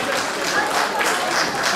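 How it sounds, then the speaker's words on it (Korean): Audience applause at a celebratory performance opening the inauguration ceremony of the Pohang branch president of a physical disability association: a dense, steady wash of clapping from a crowd, held at an even level for the whole stretch with no voices over it. "박수 한번 더 부탁드리겠습니다"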